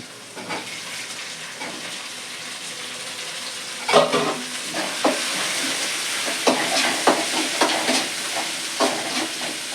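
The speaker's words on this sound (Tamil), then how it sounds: "வெங்காயம் போட்டு வதங்கணும். சீக்கிரம் வதங்க மாட்டேங்குது." Onions sautéing in a pan for a squid thokku, a steady close sizzle with scattered stirring scrapes and a louder clatter partway through, no voices.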